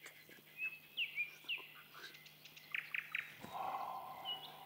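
A bird sings in the open countryside, a series of high chirps and short trilling phrases, fairly faint and somewhat distant, with a low steady hum underneath and no voices.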